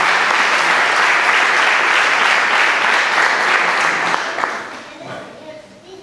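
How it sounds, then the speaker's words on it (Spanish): Loud, sustained congregational applause in a Spanish-language church service, thick clapping filling the room for about four seconds before gradually fading, with a hint of voices as it dies down. "Un aplauso para el Señor."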